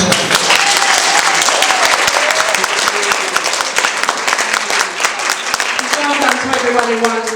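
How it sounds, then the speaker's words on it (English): Audience clapping at a summer awards and networking event, loud continuous applause throughout with a few voices and a speaking voice rising over the clapping near the end. "We can do a bit better than that with the clapping."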